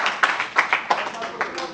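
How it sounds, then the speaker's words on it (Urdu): Audience applause in a house session after a resolution is passed, with several sharp claps rising over a broadband clatter through the short burst. "ملک صاحب کے لیے تالیاں"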